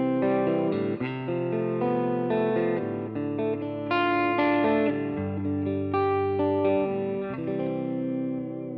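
Electric guitar played with clean tones through a Helix modeler on an AC30 amp patch, a Vandenberg-inspired Collingwood guitar on its neck pickup, ringing chords and single notes with effects and reverb and no voice.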